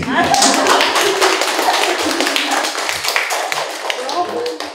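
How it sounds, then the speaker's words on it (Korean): Audience applause at a book talk with a Korean author, a dense patter of hand claps that stays loud and steady throughout, close and continuous with no break. "박수 한번"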